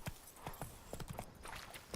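Horse hooves clip-clop at a steady trot in The Witcher 3, a string of quick, distinct thuds close by and fairly quiet, with no talking.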